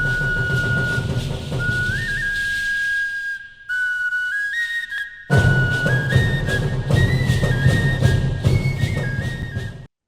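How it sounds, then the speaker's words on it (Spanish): A silbaco whistle from the Beni region plays a melody of clear sustained tones that step up and down, briefly dropping to near silence midway before resuming loudly with a full accompanying background. "El silbaco."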